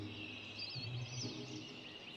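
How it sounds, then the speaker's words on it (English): An 'i'iwi, a Hawaiian honeycreeper, gives squeaky, creaking calls like a rusty gate opening, heard over a steady bed of forest background noise. "eevee actually comes from the sound that you hear when it's calling. It sounds like sort of a rusty gate opening."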